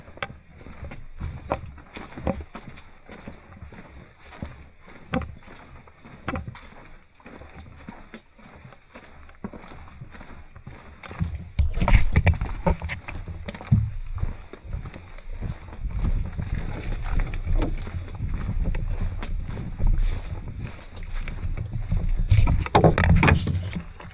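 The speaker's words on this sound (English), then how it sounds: "Now we're going to paddle into this wind." Canoe paddled into the wind in the Boundary Waters, rhythmic paddle strokes and water splashes with steady wind buffeting, growing louder and rougher in the second half.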